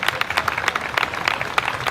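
An audience applauds at the opening ceremony of the VI Zaragoza Florece 2026 festival in Zaragoza, a dense, continuous patter of many hands clapping, loud and close, with no talking over it.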